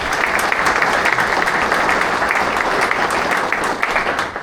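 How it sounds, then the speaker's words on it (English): An audience gives loud, sustained applause for city council members at the retirement of Bettendorf Police Chief Keith Kimball, a dense, even roar of clapping that fades slightly at the end. "So let's give them a round of applause."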